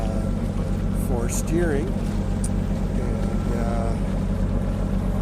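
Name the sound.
1984 Contessa 38 sailboat motoring under engine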